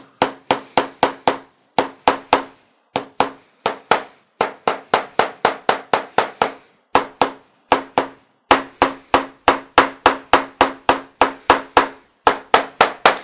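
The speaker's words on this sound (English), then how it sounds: "I can flat it using second side of this hammer" Rapid, sharp hammer blows flatten a leather shoe back seam in quick bursts of taps, close and loud, with brief pauses between runs.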